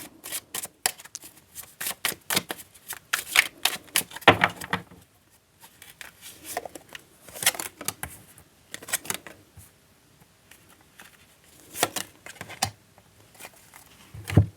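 Tarot cards shuffled repeatedly by hand, crisp bursts of riffling and tapping in uneven clusters with short pauses between, close and clear with no talking.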